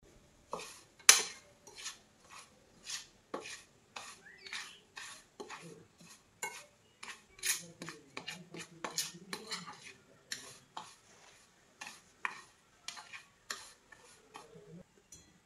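Spoon clinks and taps against a bowl as coriander-cumin powder, fennel, and clove-pepper powder go into raw mango pickle, a quiet irregular series of sharp ticks with soft stirring scrapes between them.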